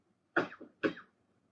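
Two quick, close coughs in succession, each short and sharp, with quiet before and after.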